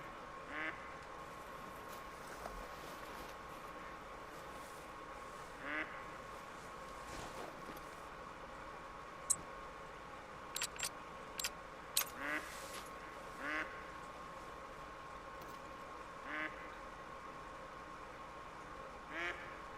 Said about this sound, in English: Just another duck.